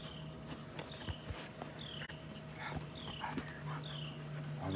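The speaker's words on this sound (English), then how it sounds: "the dog licks the phone again" A dog moves about at close range, giving soft snuffling and small whimper-like sounds over steady room noise, with a low hum and some faint knocks.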